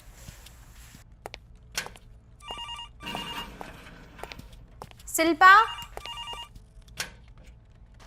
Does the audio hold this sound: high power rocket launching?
no